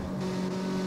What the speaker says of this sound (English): The moment you drift and press the handbrake, well, that's a nightmare for me.